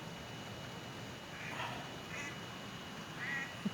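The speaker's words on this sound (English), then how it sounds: "We have a duck." A duck quacks a few faint, scattered times against a steady hiss of background noise, with no voices.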